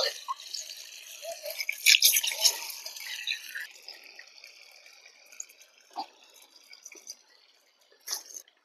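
Water running from a pipe into the soil basin around a coconut tree makes a faint, hissing trickle with scattered drips and small splashes. It continues softly under a quiet outdoor background.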